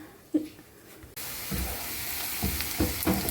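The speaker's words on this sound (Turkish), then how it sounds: "bunları da havucumun üzerine döküp bunları da güzelce kavuracağım" Vegetables dropped onto carrots in a hot pan start sizzling loudly after a quiet moment, with a few clinks and scrapes as they are stirred.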